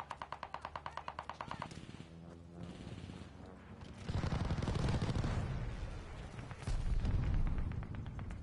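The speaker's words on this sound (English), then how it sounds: "Allied airstrike coming in hot!" In a war video game, a rapid burst of machine-gun fire gives way to an allied airstrike: two heavy, rumbling explosions roll in a few seconds apart amid the ongoing battle noise.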